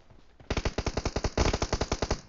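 A rapid, evenly spaced burst of automatic gunfire in a multiplayer shooter game, about twenty sharp shots in quick rhythm, loud and close, alone with no speech.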